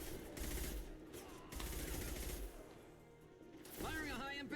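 Gunfire in the video game Mass Effect 2, bursts of rapid shots in two stretches followed by a sharp synthetic weapon sound near the end, with a dense, loud mix.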